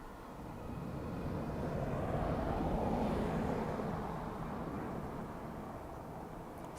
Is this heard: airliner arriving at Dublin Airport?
yes